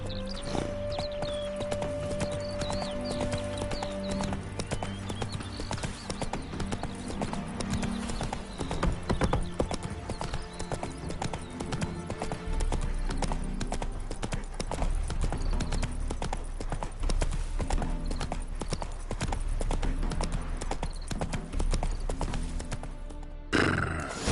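Roach, a horse in The Witcher 3: Hearts of Stone, gallops with loud, rapid clip-clopping hooves that run continuously over a game soundtrack, with a whinny early on.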